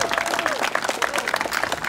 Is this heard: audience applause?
yes